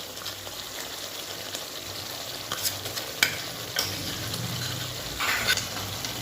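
Palak paneer curry with garam masala being stirred in a pan, a steady bubbling sizzle with scraping spoon strokes and occasional louder clinks against the metal.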